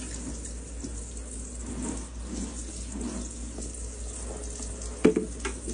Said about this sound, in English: we're gonna go ahead and turn on the water